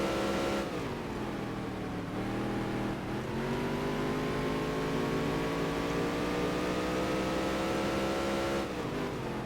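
A NASCAR race car engine in NASCAR Dirt to Daytona drones loud and close. Its pitch dips with each gear shift, then climbs and holds at a high, sustained roar.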